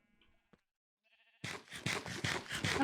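A sheep bleats in a blocky survival video game, faint blips and a short tone first, then a loud close run of rapid repeated bleats filling the second half, with no talk.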